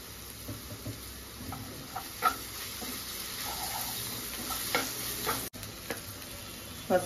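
Ginger garlic paste fries with chopped onion and tomato in a pan, a soft continuous sizzle broken by scraping stir strokes and a few small knocks, with no speech.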